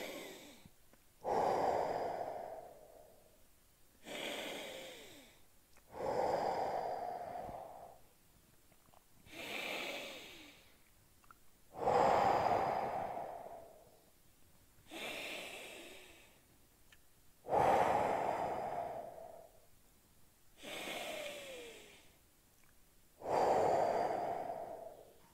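Slow, deep belly breaths during an exercise session, alternating inhales and exhales about every two to three seconds, close and soft with a faint snorting edge, with no talking.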